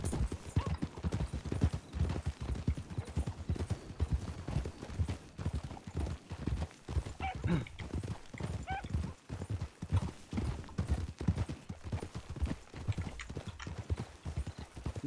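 Horse hooves clip-clop in the RedM video game, a steady fast rhythm of hoofbeats running throughout about fifteen seconds, quiet and close, with a brief whinny-like sound partway through.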